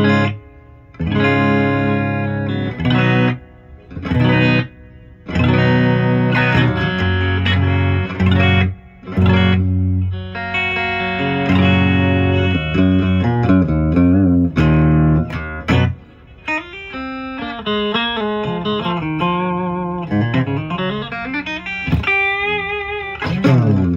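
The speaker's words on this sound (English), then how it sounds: "Let's go through the reverb on the clean." Clean electric guitar chords and melodic notes through a Crate GX900H head's clean channel ring out with a wet, lingering reverb tail set at 12 o'clock, played alone and fairly loud.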